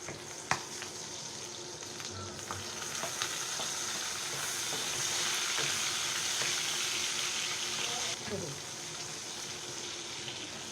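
Garlic and onion sautéing in a pan for adobong talong, a steady broadband sizzle running throughout with occasional stirring clinks, close and moderately loud, with a voice speaking briefly over it.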